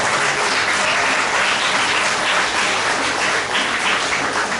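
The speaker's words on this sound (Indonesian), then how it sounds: "Mari kita tepuk tangan." Applause from a church congregation at a 63rd anniversary celebration, a dense, loud, continuous clapping from many people filling the room without pause.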